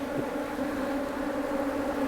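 Honey bees buzz in a dense, steady drone close around a beekeeper's head while queens are released and a super is installed. The hum stays loud and constant with no speech.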